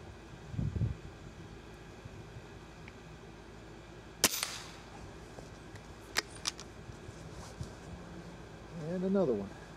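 A single sharp airgun shot cracks out close by, followed by a few fainter clicks and thumps, with talk around it and a louder voice near the end.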